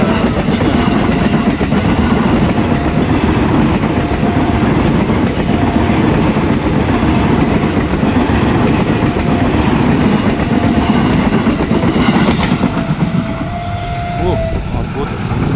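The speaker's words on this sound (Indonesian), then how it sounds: "Kereta dari Tanah Abang" A commuter train from Tanah Abang bound for Rangkas Bitung speeds through the JPL 58A Bintaro rail crossing, a loud continuous roar with rhythmic wheel clatter up close that eases slightly near the end.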